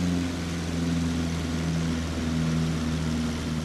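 A De Havilland Chipmunk's piston engine and propeller drone loudly and steadily in flight at high RPM, a continuous buzzing roar with a strong, even low hum.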